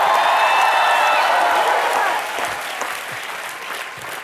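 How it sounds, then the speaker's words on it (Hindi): A television comedy show's studio audience breaks into loud applause and cheering, strong at first with some whistling, then settling to a lighter level of clapping after about two seconds. "तालियां।"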